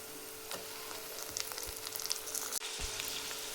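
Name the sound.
green chilies and tomatoes frying in a pan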